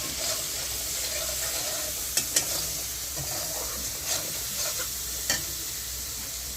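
Matar ghugni, a spiced pea curry, sizzles steadily in a pan. A spoon stirs it now and then with a few sharp scraping clicks, close up, and no one talks.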